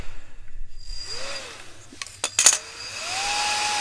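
An electric fan runs with a steady broadband airflow rush that swells toward the end, with brief clicks and a rising whine as its speed is turned up from low to high.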